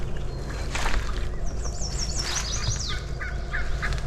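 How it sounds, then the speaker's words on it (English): A wild turkey gobbler in Maine gobbles in a rapid rattling burst answering a cutting hen, with other bird calls nearby over a low steady background hum. "Hen's cutting down there and he's gobbling to it."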